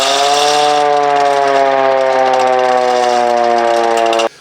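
A loud civil defense siren wails steadily with a rich harmonic tone, holding its pitch for several seconds before cutting off abruptly.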